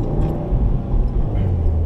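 A 2015 Subaru WRX driving along a curvy back road, heard from inside as a steady, loud low engine and road rumble with no talking.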